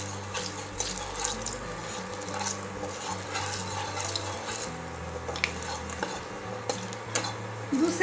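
Fenugreek and cumin seeds frying in hot oil in a pan as a tempering for a Bengali aubergine masala, giving a steady close sizzle and crackle with light clinks of a utensil against the pan.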